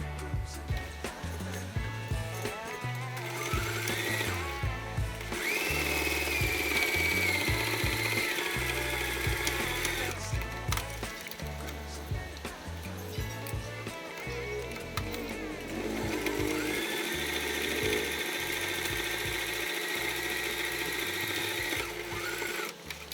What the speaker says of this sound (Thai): เย็บด้านซ้ายขวาแล้วก็ด้านล่างแบบนี้ค่ะ